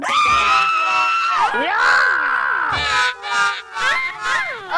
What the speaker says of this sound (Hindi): इन्हें ऐसे रह रह कर चीखने की आदत है, ये चीखती रहेंगी